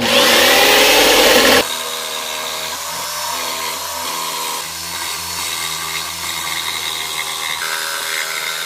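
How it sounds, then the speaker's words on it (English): A jigsaw with a hardwood blade cutting walnut and maple for a canoe paddle: a loud saw burst at the start, then a steady, near motor whine with a buzzing harmonic tone that runs to the end. "I'll just be using a jigsaw with a hardwood blade to rough it out."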